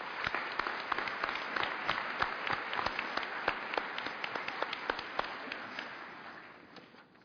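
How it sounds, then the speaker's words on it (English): Graduation ceremony crowd at Cleveland State Community College giving a round of applause, many hands clapping in a steady patter at moderate distance that gradually fades out toward the end. "Let's give them a round of applause."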